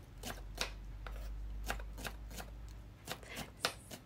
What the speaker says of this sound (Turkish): Şöyle pırasayı incecik doğrayacağım arkadaşlar.